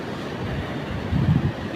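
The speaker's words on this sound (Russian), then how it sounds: "Шквалистый ветер решил присоединиться к поздравлениям." Squally wind by the sea in Anapa buffets the microphone in a steady, loud, low rumble, with gusts swelling briefly toward the end.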